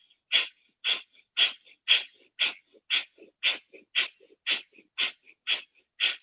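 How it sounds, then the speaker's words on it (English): Rapid, forceful Kapalabhati exhalations repeat in an even rhythm, about twelve sharp nasal breaths out, close and loud against silence. "Kapalabhati, breathe in halfway. Exhale, exhale, pumping the navel back with the breath out."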